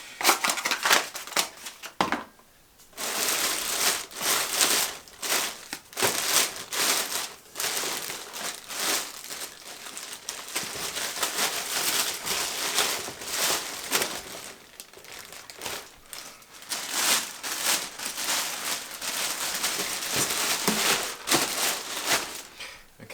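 An empty cardboard packaging box is crushed and crumpled by hand, giving a close, continuous run of crinkling and crunching bursts with brief pauses and no speech.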